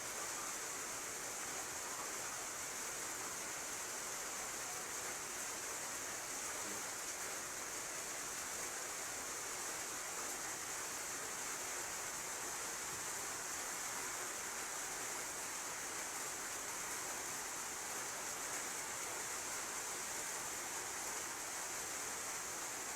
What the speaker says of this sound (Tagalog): ang lakas sa tumutulo